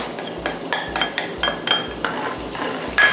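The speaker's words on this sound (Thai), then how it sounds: "ผัดกระเทียมให้พอหอมนะคะ" Steady sizzling crackle of garlic stir-frying in hot soybean oil, with repeated soft scraping and clinks of a utensil stirring in a pan.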